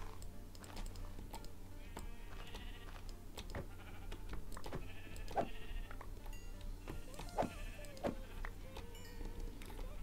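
Sheep bleat a few times in Minecraft, short nasal calls coming at intervals over a steady background of quick keyboard typing and clicks.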